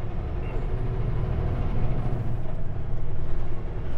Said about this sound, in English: I had to do the rest of my pre-trip while the truck was idling